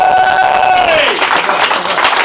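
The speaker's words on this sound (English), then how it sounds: "Please keep that round of applause going" Loud crowd applause after a stand-up comedy set at Dirty Dicks, a dense burst of clapping that fills the whole moment, with a voice briefly heard at the start.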